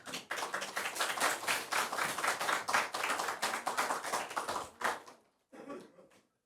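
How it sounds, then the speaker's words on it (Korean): A church congregation claps to welcome a pastor to the pulpit, a lively, fairly quick patter of many hands that fades after about five seconds, leaving a short, softer sound before silence. "목사님 나오실 때 박수로 맞이해 주시기 바랍니다."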